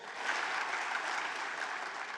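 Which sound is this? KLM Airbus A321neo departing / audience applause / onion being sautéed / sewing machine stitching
audience applause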